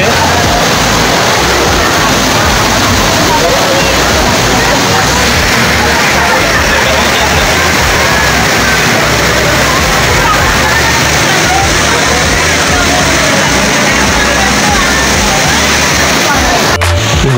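Water rushing loudly and constantly over the Wawa Dam falls, near and unbroken, with the murmur of a crowd of people mixed beneath the roar.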